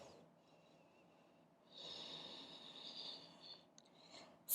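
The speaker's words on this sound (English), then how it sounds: "We will take 5 breaths here." Breathing in a downward facing dog yoga pose, a soft airy exhale that swells into a longer breath through the nose and mouth, close and quiet, ending with a sharp brief sound.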